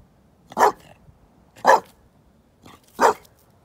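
A dog barks three times, spaced about a second apart, with a softer bark in between; fairly close and otherwise quiet.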